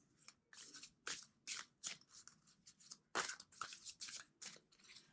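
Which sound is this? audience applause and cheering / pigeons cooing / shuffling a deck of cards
shuffling a deck of cards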